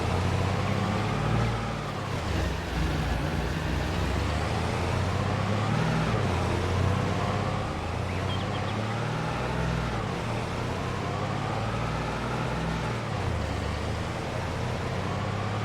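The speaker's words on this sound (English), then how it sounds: "we'll jump back in our little Land Rover here and shoot up the shop" A small Land Rover driving on a farm, a steady low engine drone with rumbling road noise that rises and falls gently as it travels, continuous and fairly close with no talking.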